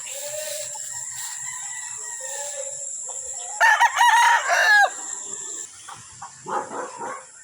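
Game fowl roosters at a breeder's game farm crow nearby, one loud drawn-out crow standing out midway, then a shorter call, all over a steady high-pitched hiss.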